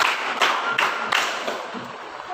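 A group claps in a rhythmic hand-clapping game, tepuk pagi siang malam, with a few sharp, spaced claps ringing out, separated by brief pauses and ending in softer scattered taps.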